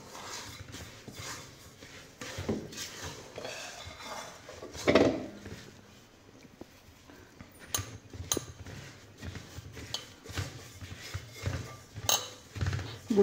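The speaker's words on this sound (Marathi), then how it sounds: "छान सगळं मिक्स करून घेऊया व्यवस्थित." Semolina and grated coconut being stirred together in a pan for laddoo, a spoon scraping and clinking against the metal in an uneven, close-up rhythm with a few sharper knocks.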